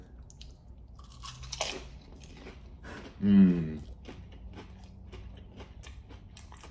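Crunchy pig lips mixed with chips are bitten and chewed in a single loud crunch near the mic, with quiet rustling and a murmur of approval around it.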